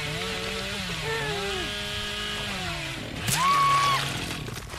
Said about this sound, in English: Let's see how this chainsaw works.